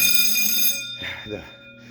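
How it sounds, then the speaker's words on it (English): Fire alarm bells ring in a care centre with a bright, sustained metallic tone that stops partway through, while a person speaks over the ringing. "the bells are working"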